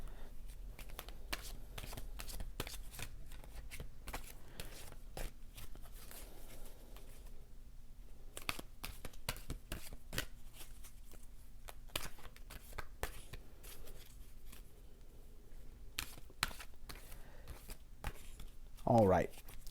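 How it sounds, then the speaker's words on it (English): Cards from a clarifier deck being shuffled by hand, a soft repeated riffling and patter of card stock at close range, with brief sharper flicks near the end. "I will pull a clarifier card, and I did not shuffle my clarifier deck here, so I will take a moment to shuffle this."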